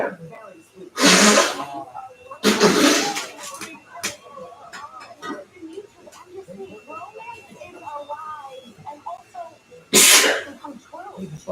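Three loud, sharp sneezes burst out near the mic, spaced apart, with people murmuring and talking quietly between them.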